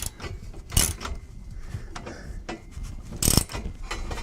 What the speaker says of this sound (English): They're just both ratcheting against each other.